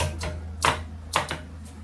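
Several crisp keystrokes on a 1915 Harris Visible No. 4 typewriter land unevenly in a brief, close burst over faint background hum.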